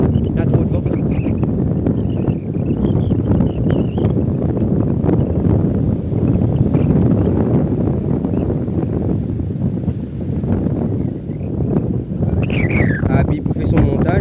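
Strong wind gusting across a coastal fishing spot at Pointe au Sel, a loud continuous roar buffeting the microphone alongside water noise, with people talking intermittently over it.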